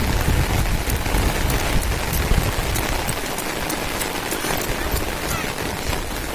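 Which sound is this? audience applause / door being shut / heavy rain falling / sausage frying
heavy rain falling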